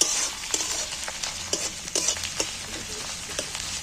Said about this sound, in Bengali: এইটাকে একটু আলাদা করে নিয়ে এই পেঁয়াজের সাথে একটু ভেজে নেব